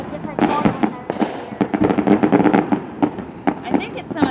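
Fourth of July fireworks heard from a back deck, with a rapid run of sharp bangs and crackling bursts in quick succession, fairly near and loud, while people talk over them.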